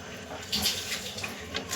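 Water splashes and pours briefly into a cooking pot, a short bright gush with uneven sloshing.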